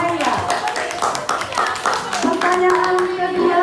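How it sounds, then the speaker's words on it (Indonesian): Classroom of children clapping in applause, a rapid run of overlapping hand claps mixed with young voices chattering and calling out throughout. "Tepuk tangan untuk Naila"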